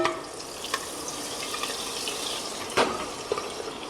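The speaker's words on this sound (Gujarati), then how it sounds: "હવે ડુંગળી નાખશું ડુંગળીથી જ વઘાર કરવાનો" Onions dropped into hot oil with dried red chillies and bay leaf for a tempering set off a steady broadband sizzle throughout, with a brief louder crackle near the end and no talk.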